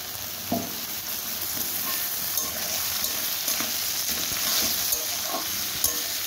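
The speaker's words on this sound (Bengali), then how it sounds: "আলুটা মোটামুটি ঢাকা দিয়ে আমি হালকা ভেজে নিয়েছি। এবারে আমি টমেটোটা দিয়ে দিই।" Potatoes and tomato frying in a pan over a low flame, a dense, even sizzle running throughout, with a few faint spoon taps and scrapes mixed in.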